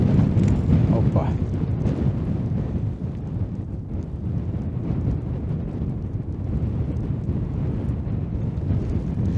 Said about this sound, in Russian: Ветер, ветер, ребята.